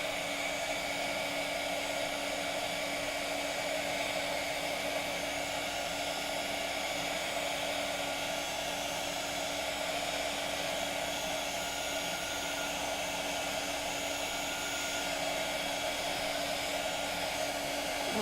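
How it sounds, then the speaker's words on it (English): A hair dryer blows steadily on watercolor paint over an embossed card, a continuous even whine and rush of air that stays constant throughout with no talking. "All right, I'm gonna try like drying this a little bit, and then I'll blot some of that off as we go too."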